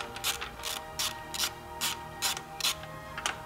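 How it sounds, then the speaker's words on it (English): A ratchet wrench clicks in quick bursts while loosening 13 mm drive shaft bracket bolts on a 2009 Mini Cooper Clubman, about eight short rattling strokes, close and fairly quiet, alone. "13 millimeter, nothing really to it here. This looks like we're just going to pop off three bolts."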